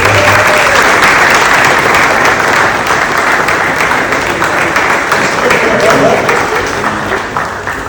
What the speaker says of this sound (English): I want you guys to give them a round of applause